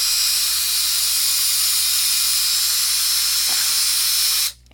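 A power drill with a real drill bit bores into a 2x4 wood board, giving a steady, loud, hissing whir for over four seconds before it cuts off abruptly.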